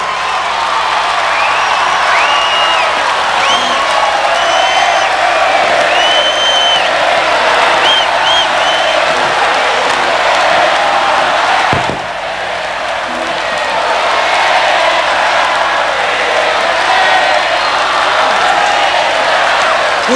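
A large live concert audience applauds and cheers for the performer, a loud, dense wall of clapping with whoops and whistles that dips briefly midway before swelling again, sustained for the whole stretch.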